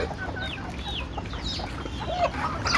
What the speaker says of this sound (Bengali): ওইদিকে কয়টা মুরগি আছে আরও বাকিগুলো ছাড়তেছে